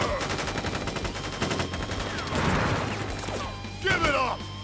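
Gunfire volley in the video game Crisis Core Final Fantasy VII Reunion, bursts of rapid shots and impacts mixed with game music and combat effects, with shouted voices over the action.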